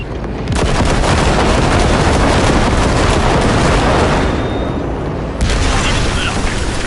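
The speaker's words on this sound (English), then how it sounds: "the monster gate that needs to be blown open" In Cyberpunk 2077 an explosion blasts open a massive gate, a loud, sustained roaring boom that rumbles for several seconds, dips briefly and then flares up again.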